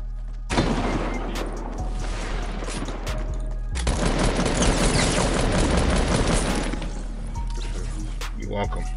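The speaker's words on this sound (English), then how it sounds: "I'm gonna shoot them while they're in the air." Bursts of rapid gunfire from a video game come in dense continuous volleys, loud and close, with a brief break partway through before heavier shooting resumes. Talk is heard throughout.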